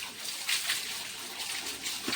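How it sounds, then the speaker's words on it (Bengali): A father bathing, with soft water splashes and trickles at a low level, broken into a few brief sloshes with no talking. "তো বাবা স্নান করছে"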